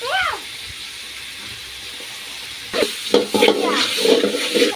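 Native country tomatoes sauté in a pan for a village-style mutton curry; a quiet stretch gives way to a close, crackling sizzle with scraping stirs, while a person talks.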